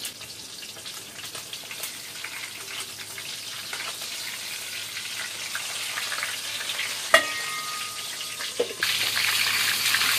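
Fried chicken pieces sizzling and frying in hot oil, a steady close crackle that gradually builds louder, with a brief clatter near the end and a brighter, fuller sizzle over the last seconds.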